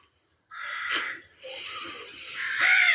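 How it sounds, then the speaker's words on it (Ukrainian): Crows caw several times in a row, harsh, fairly close, loud calls in an outdoor rural setting, with a short silence before the first and the final call the strongest. "Кар, кар. У ворон своє життя, а в людей своє."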